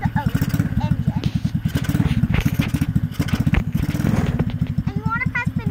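A 125cc go-kart engine idles close by with a fast, steady, rattling putter throughout, while a person talks over it.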